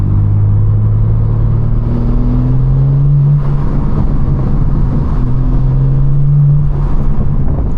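A BMW G80 M3 accelerates up a highway on-ramp in sport mode, its engine droning loudly from inside the cabin with rising pitch sweeps through gear changes and a steady deep rumble throughout.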